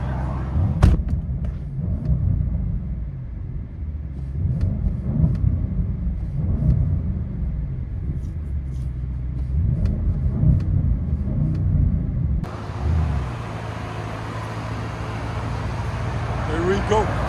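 Deep, rumbling exhaust drone from a 2026 Audi RSQ8 with a 4.0L twin-turbo V8 and resonator delete, in sport mode, steady and heavy under the cabin, with a tonal shift near the end as the engine note changes.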